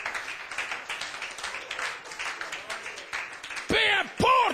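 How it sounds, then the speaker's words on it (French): Congregation clapping during a French church service in Paris, a steady rhythmic applause under a preacher's amplified voice, ending with loud shouted exclamations. "applaudissez un peu le Seigneur"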